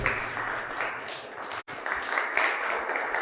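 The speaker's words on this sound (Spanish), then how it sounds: "Demos un aplauso a Dios por su palabra" A church congregation applauds in a steady, fairly soft wash of clapping that drops out for an instant midway before carrying on.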